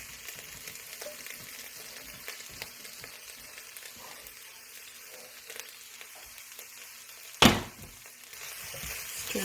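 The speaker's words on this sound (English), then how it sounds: "Now it's time to add the browned beef to the pot." Browned beef going into a pot for slow cooker chili, giving a low, steady sizzle with light crackles, then a sharp loud burst as more meat drops in and the frying grows louder.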